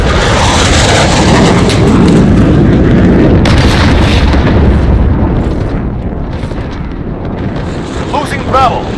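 Cruise missile blasts in Call of Duty Modern Warfare roar as a loud, sustained rumbling wash of explosions that dominates throughout and slowly tapers toward the end, with a voice briefly heard under the din.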